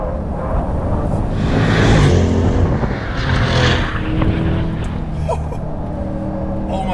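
A 2020 Corvette C8 Z51 engine roars on a race track, swelling and easing through corners, loud and close, with faint bursts of wind and tire noise and no clear talking.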